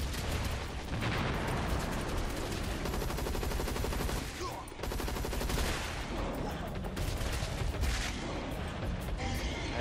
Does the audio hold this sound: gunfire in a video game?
yes